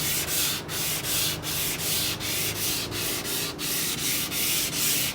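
Steady back-and-forth hand sanding with a cork block on a Nordmende Rigoletto 59 radio, the rasping strokes repeating in an even rhythm of roughly one every two-thirds of a second, close up.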